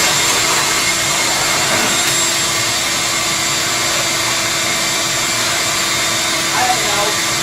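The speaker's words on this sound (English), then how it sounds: "Do you actually grab the leaf blower?" Leaf blower running close by as a loud, steady broadband roar with a high whine on top, continuous from start to finish, used to dry out a vehicle interior being stripped down.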